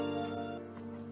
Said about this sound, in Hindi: स्वीटहार्ट का फोन।